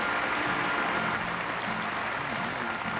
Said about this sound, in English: let us welcome Reverend Yoon Young-tae and Mrs. Song Young-sun with a heartfelt round of applause